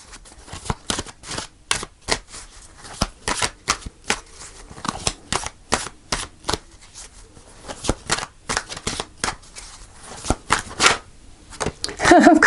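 Rapid riffling and flicking of tarot cards being shuffled and drawn, a dense run of crisp close snaps and slaps with brief pauses, ending in a louder flurry.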